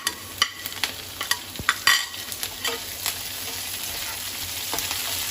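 Chopped ginger, green chillies and curry leaves roasting in a pan for rava idli, giving a soft close sizzle with scattered spatula taps and scrapes in the opening seconds.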